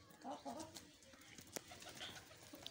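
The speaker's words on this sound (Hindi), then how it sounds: "ये कबूतर हमने दोस्तों बंद कर दिए हैं" Pigeons coo softly and intermittently nearby at low volume, with faint background noise.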